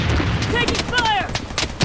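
Gunfire in the shooter game Blood Strike, a rapid burst of loud close shots with a brief tonal in-game sound mixed through.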